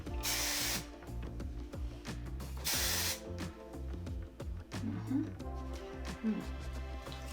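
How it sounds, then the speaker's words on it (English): Two short hissing bursts from a hairspray can are sprayed onto hair, the first at the start and the second a couple of seconds later, both under steady background music. "Sometimes I'll even go through and do a little bit of my hairspray and kind of run my fingers through it like that"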